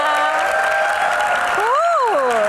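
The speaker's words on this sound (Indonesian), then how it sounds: "tepuk tangannya mana?" A studio audience of university students in Jakarta applauds at a Q&A show, a steady wash of clapping with a sustained tonal sound layered above it that swoops upward and back down near the end.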